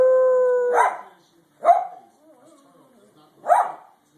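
A pet dog howls in three separate drawn-out cries, close and fairly loud with pauses between, after a person's voice urges it on.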